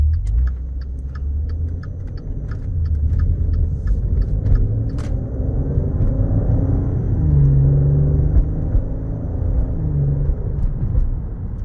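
A 2018 Maserati Ghibli in sport mode drives along with a steady low engine rumble and road drone, gentle pitch changes as it shifts smoothly, and faint ticking and jingling inside the cabin, with no one talking.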